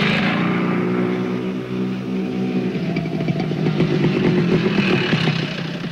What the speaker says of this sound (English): riding on a snowmobile, even if it tends to get somewhat bumpy